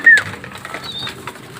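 Pigeons arrive at a racing loft after a pooling race, with a brief chirp, soft cooing and light flutter and clatter close by at moderate volume.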